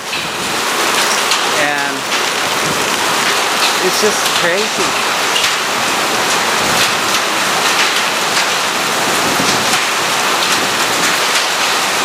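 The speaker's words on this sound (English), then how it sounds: "the sound you hear is hail" Hail pounds down during a thunderstorm in Oklahoma, heard from a car in a wash bay as a dense, steady roar of impacts that never lets up, with a person talking briefly over it.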